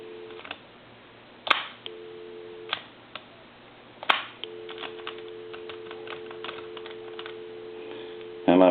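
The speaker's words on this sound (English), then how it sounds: "Give you some dial tone." A steady telephone dial tone hums from a Mickey Mouse novelty phone after repair, interrupted by a few sharp clicks and clunks of handling, then resuming until a final knock.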